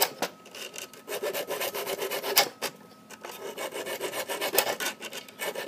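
A file rasps steadily back and forth across the blade of an electric hedge trimmer to sharpen it, a close, gritty scraping in repeated strokes with brief pauses, no voices.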